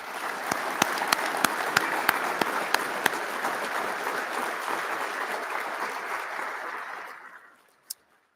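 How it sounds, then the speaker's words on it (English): An audience applauds at a police training academy graduation ceremony, steady loud clapping with a few sharper claps standing out, fading to silence near the end with one last clap. "Give him an applause, please."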